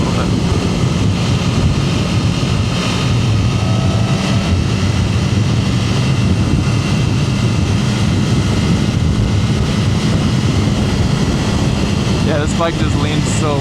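A 2025 BMW S1000RR motorcycle rides through corners, its engine a loud, steady drone under wind rush that holds throughout, with a brief rising rev near the end.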